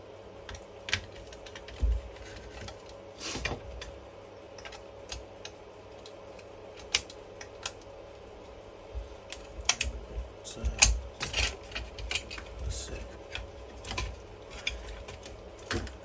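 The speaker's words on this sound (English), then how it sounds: "Now these two screws up here for the button assembly, so you can just unscrew those." Screws on a BMW i3s steering wheel button assembly being undone, giving a series of small sharp clicks and ticks at irregular intervals, close and fairly quiet, with no talk.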